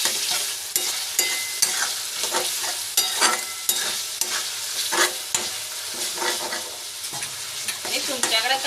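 Schezwan noodles being stir-fried in a pan, with repeated scraping and tossing strokes over a steady sizzle, loud and close with no talk.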